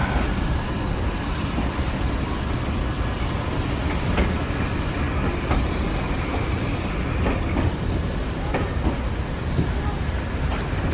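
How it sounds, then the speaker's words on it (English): A West Somerset Railway train of 1940s style departs, rolling along with a continuous rumble and repeated clicking rail joints, fairly loud and close, with occasional sharp clacks and no clear talk. "I think those trains would have been quite noisy departures"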